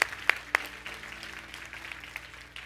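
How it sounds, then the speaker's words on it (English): A church congregation claps and stomps their feet hard at a preacher's call, a few sharp loud claps up front giving way to a steady rumbling wash of clapping and stomping. "I want you to just stomp your feet hard and clap"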